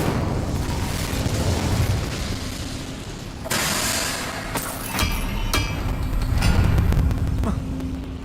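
An Incendio fire spell in Hogwarts Legacy bursts in a sharp, loud whoosh, followed by a few further booms and crackling pops over a steady rumbling game background.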